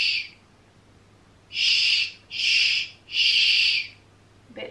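Hush setting of the Sound Sleeper white noise app: three long breathy shushing bursts, each about a second with brief gaps between, loud and close against a quiet background.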